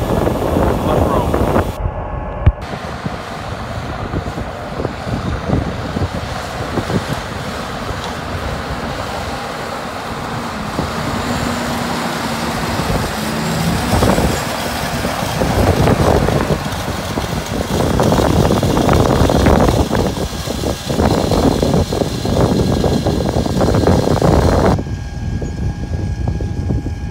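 Strong gusts blow across a microphone in an open farm field in Northwest Florida during planting. A heavy, continuous rumbling roar swells and eases for nearly half a minute, masking everything else.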